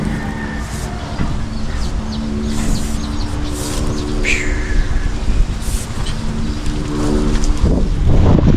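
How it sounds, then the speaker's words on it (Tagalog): Strong wind at sea buffets the microphone in a steady roar during a fishing trip, a broad rumbling gust noise that swells louder toward the end with a low engine-like hum underneath. "Lakas ng hangin."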